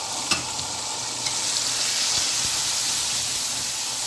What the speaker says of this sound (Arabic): وهنزل على البصل الجميل دوت بالطماطم اهو